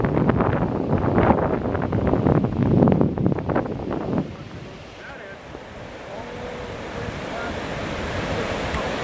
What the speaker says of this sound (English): Have you heard the surf?